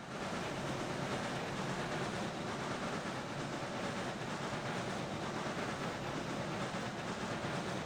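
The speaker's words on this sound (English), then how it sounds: "we're gonna pull this train into this" In the game Railroads Online, a long train pulls into a siding with a steady, dense rumble and rolling noise. It stays constant and fairly loud throughout, with no clear clicks and no talk.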